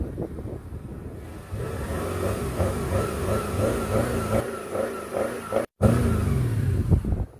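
Audi A8 V8 engine idling and then revving, a deep rumbling drone that swells and falls in several throttle blips, close and loud, with a brief dropout near the end before the engine note returns.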